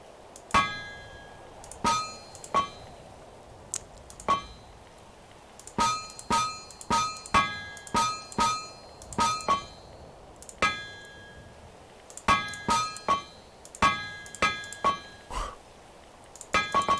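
Metal hammered on an anvil in the TerraFirmaCraft mod for Minecraft: sharp ringing clangs, mostly single or in quick clusters with irregular gaps, bright and close, with no talk.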